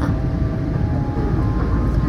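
Steady airplane cabin drone on a night flight to Hong Kong, a continuous low roar of engines and airflow that fills the whole clip with no break.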